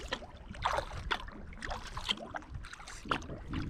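Kayak paddling on a lake, with soft irregular splashes and drips of water as the paddle strokes, close by against a quiet outdoor background.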